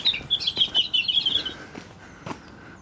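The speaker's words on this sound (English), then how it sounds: "And the birds are starting to wake up a bit now." Birds chirp in woodland beside Terminus Pool in Winsford. A quick burst of bright, close chirps and tweets fills the first half, then fades to a few scattered calls over quiet outdoor background.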